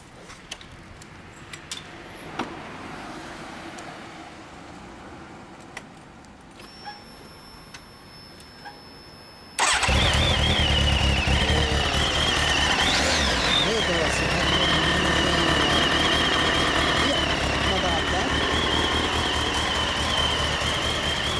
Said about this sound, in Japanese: いや、エンジン音聞かして。